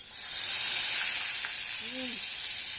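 Salted fish sizzles steadily in a hot pan, a loud bright hiss running unbroken from start to finish, with a brief faint voice partway through.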